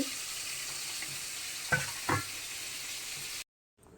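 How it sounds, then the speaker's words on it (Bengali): Fish frying in hot oil, a steady close sizzle with two short clatters midway before cutting off to silence near the end. "মাছগুলোকে আমরা সুন্দর করে ভেজে নেব"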